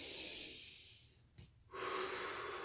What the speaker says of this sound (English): I'm going to use a double breath here, where I have 2 breaths